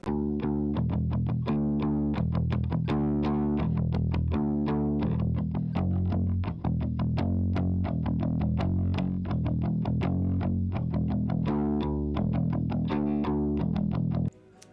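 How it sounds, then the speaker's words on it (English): A bass guitar played through a Lab Series L5 amplifier with light distortion plays a repeating riff of thick, gritty shoegaze notes, loud and steady, ending abruptly with a brief silence. "Next thing is the bass. I recorded this with my Lab Series L5, again, a little bit of distortion on it."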